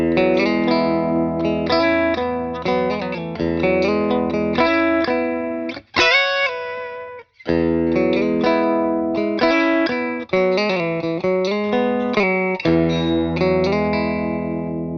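A Stratocaster electric guitar played through an amp with a Jupiter Effects Kaleidoscope reverb, recorded with a Lewitt LCT 440 condenser microphone, plays a run of chords and notes with a reverb tail, and nobody talks.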